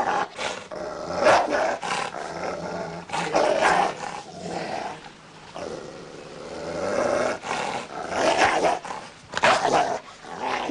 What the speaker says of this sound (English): Not with that dog.